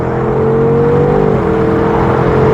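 A BMW engine, from an M6 Gran Coupe or M850i xDrive, pulls hard from inside the cabin with a loud, steady droning hum and no speech; the gear changes cannot be made out.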